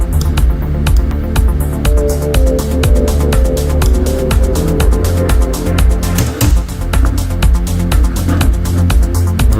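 Dense, continuous music with a washed, spacious reverberant tail from a reverb effect blurring the notes together, steady and loud throughout with no voices.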